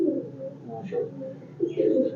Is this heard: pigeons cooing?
yes